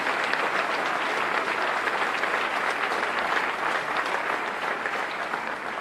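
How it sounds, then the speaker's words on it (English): Warm, continuous applause fills a hall during Milwaukee's State of the City address, many hands clapping in a dense, steady patter that holds strong and tapers a little near the close. "Let's give a round of applause for all those people who gave their first job."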